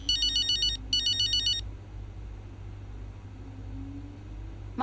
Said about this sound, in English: Oh, sodding phone.